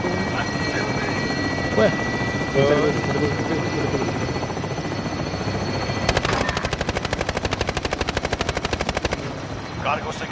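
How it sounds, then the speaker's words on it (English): A helicopter in a PS4 military shooter game gives a loud, steady rotor drone throughout, overlaid by rapid bursts of gunfire toward the end, while players talk over it. "Cargo secure. Helicopters exiting the AO."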